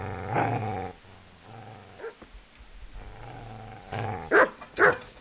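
A dog in the video game Kingdom Come snarls with low, rumbling growls, then lets out two loud, close barks near the end.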